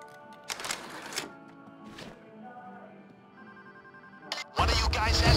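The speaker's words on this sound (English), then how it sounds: "One of you guys answer the phone and pass me through." A phone rings during a bank heist in the Payday video game. Several bursts ring out over a low background hum, and a louder burst of noise comes in near the end.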